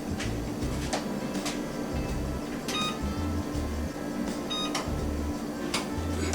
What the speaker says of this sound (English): I'm going to start the oven right now.